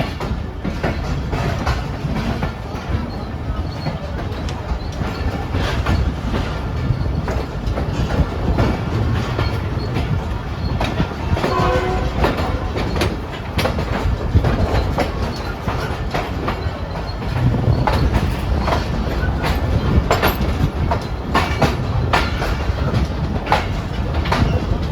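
Pak Business Express passenger train leaving Hyderabad railway station, a steady loud rumble of wheels on rails with rhythmic clickety-clack and occasional metallic squeals, continuous and close as if heard from inside a carriage.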